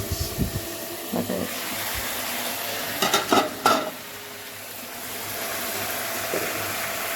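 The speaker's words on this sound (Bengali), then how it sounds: "এরকম মাছের ঝাল আমার ফুটছে" Fish curry simmering in a pan, a steady low bubbling sizzle with a few brief clattering touches of a utensil against the pan, close and without speech.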